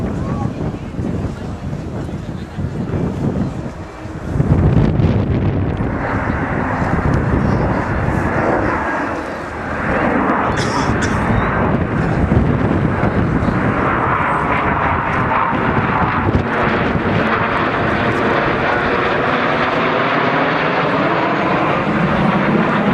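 Team Viper jets fly a display at the RIAT 2011 airshow, a loud sustained roar that swells and passes, mixed with wind buffeting while an announcer talks over it.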